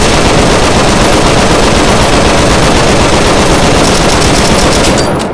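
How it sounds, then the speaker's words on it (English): Sustained, loud automatic assault rifle fire from the video game Left 4 Dead 2 rattles without a break for several seconds, a dense continuous burst that cuts off at the very end. "An assault rifle."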